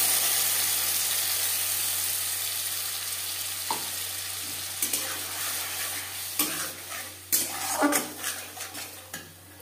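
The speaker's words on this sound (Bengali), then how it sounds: "লো টু মিডিয়াম ফ্লেমে 4-5 মিনিট মশলা কষিয়ে নেব।" Spice paste sizzles in oil over a low-medium flame, a soft frying hiss that fades while a utensil scrapes and clinks against the pan in irregular bursts.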